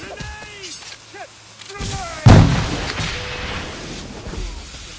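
A grenade explodes in Assassin's Creed 4: Black Flag with a sudden loud boom and a rumbling, fading tail, after a stretch of shouting voices and scattered combat noise.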